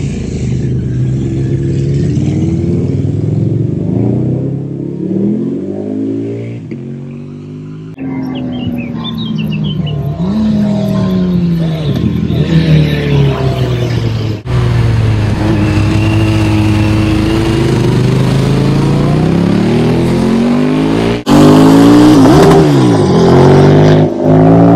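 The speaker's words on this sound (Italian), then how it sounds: "Il suono delle moto in montagna." Motorcycles climb mountain hairpin roads, several engines approaching and passing one after another with rising and falling revs, loud and close, with birds faintly chirping in between.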